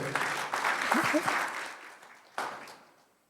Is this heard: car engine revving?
no